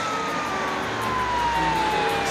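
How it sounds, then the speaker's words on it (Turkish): A distant police car siren wails steadily, its pitch slowly gliding downward as it passes, heard faintly over background hum with no talking. "Şimdi polis arabası geçti."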